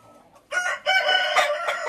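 Backyard hens, including a crested hen, clucking in a coop after a quiet start, busy overlapping calls that continue loud and close to the end.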